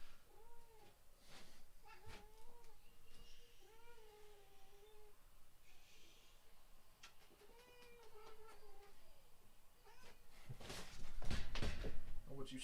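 A cat meows repeatedly in a room, several drawn-out, rising-and-falling cries spaced across the span, with a louder scuffle or knock near the end and no speech.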